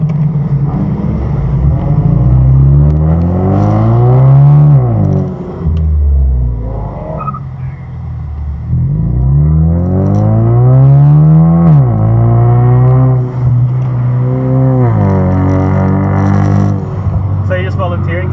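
A 4-cylinder turbo car driving a track lap at Luddenham, recorded from the cabin by a dashcam. The engine note rises and falls repeatedly as it revs up and shifts, loud and close under occasional talk.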